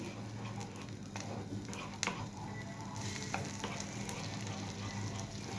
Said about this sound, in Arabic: مش عايزه احمر التوم قوي، يا دوب كده يعني ياخد صفار او يتدبل بس وريحته تطلع